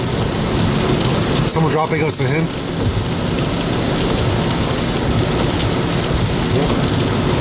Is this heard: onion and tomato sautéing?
no